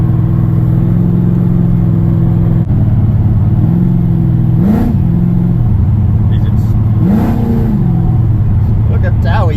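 A one-tonner ute driving along, with a loud, steady engine drone and road rumble heard from inside the cab and a couple of brief rises in engine pitch. Talk is present now and then.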